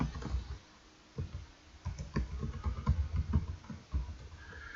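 Computer keyboard keys are tapped in quick, uneven bursts of close, soft clicks with short pauses between runs.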